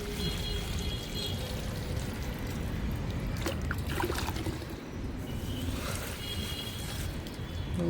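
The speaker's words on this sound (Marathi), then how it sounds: "चला त्या कोरपडीत पाणी टाकून घेऊ" Water is poured from a container onto an aloe vera plant outdoors, a steady broadband pour and trickle running continuously at close range with no talking.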